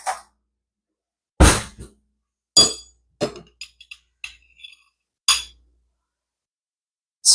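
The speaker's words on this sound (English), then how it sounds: "Let me grab a spoon here, and I'm going to spread those out." A metal spoon clinks against a container several times while sunflower microgreen seeds are spread out for planting, with sharp separate taps and short bursts spaced unevenly, close up and with no talking.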